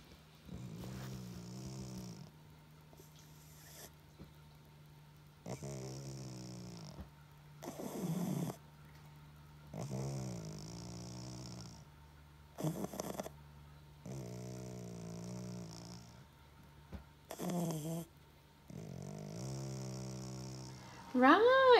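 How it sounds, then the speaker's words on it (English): A pet resting on a settee snores in a slow, steady rhythm, each rasping breath repeating every couple of seconds, close and fairly quiet in a calm indoor room. "listen to Winnie snore"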